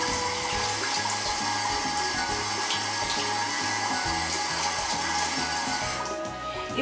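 Running tap water and splashing at a sink while a face is rinsed after cleansing gel, a steady close rush of water with irregular splashes throughout.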